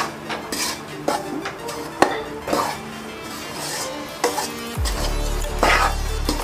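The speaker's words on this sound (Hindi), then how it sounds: "मैं इसको अभी थोड़ी देर चला लेती हूँ" A spoon scrapes and clinks against a pan while dry wheat flour roasts for panjiri, in repeated close strokes, before a steady low hum rises under the stirring near the end.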